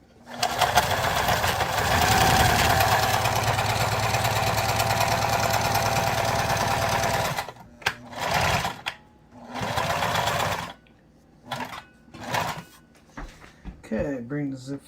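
A sewing machine stitches forward and backward, running in a long, steady, rapid whir for about seven seconds, then in short, stop-start bursts, while someone talks near the machine.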